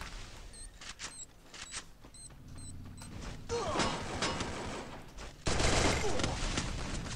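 Gunfire in the battle royale game Free Fire, with quick shots and bursts amid game effects, growing louder and denser toward the end.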